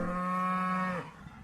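A single long moo from a dairy cow, loud and close, holds steady for about a second and then breaks off.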